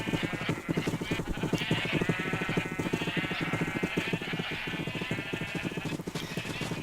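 Many horned sheep packed into a room in a Minecraft FTB modpack bleat continuously in an overlapping, dense chorus that stays steady and fairly loud throughout, with no talking.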